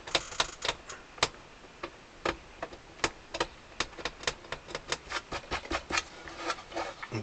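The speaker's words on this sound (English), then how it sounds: "I've just got to get all the tape off." Tape being peeled off the body of a Paolo Soprani 80-bass accordion during restoration, heard as a run of sharp crackling snaps and ticks at an uneven rhythm, close and fairly quiet, with no talking.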